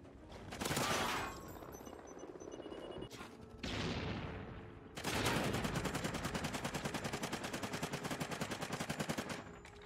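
Sustained automatic fire from an AK-12 assault rifle in the video game Call of Duty: Ghosts, a loud rapid rattle of shots in several long bursts with brief gaps between them.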